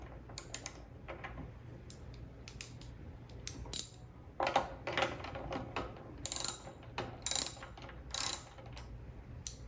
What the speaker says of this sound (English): next we'll remove the nut.